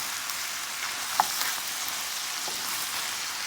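Guyanese chowmein with vegetables and onions stirred in a hot pan, a steady close sizzle and frying hiss with a couple of soft utensil clicks, no voices.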